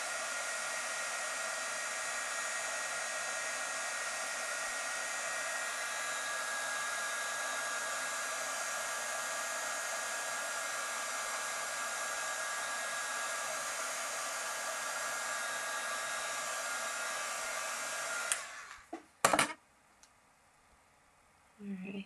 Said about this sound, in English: I'm going to hit this with my heat tool on the low setting. Just to speed up the drying process.